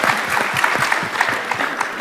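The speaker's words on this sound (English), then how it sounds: "y'all were weak with that applause" Thin, scattered applause from a modest audience at a conference on small modular reactors, individual claps distinctly audible in an uneven patter lasting about two seconds.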